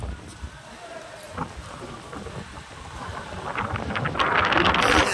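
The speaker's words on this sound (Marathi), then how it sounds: "इतका जबरदस्त वारा इथे सुटलेला आहे." Strong thunderstorm wind at night around an exhibition centre in Hyderabad, with barricades and boards blown over; a broadband roaring rush that builds steadily and grows louder and gustier toward the end.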